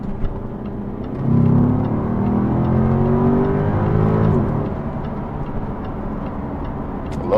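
A 2012 Jaguar XK engine hums steadily, rising into a smooth revving purr midway before settling back to a low idle rumble, with no voices.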